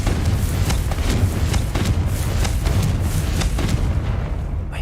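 Confringo explosive spell in Hogwarts Legacy on PS5, a dense continuous rumbling blast with rapid crackling bursts throughout, loud and steady with no voices.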